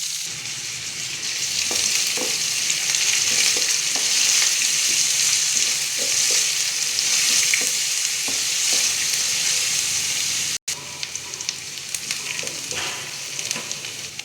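Steady, dense sizzling of onions frying in hot oil, with occasional clicks and scrapes, continuous throughout and briefly cut off near the end.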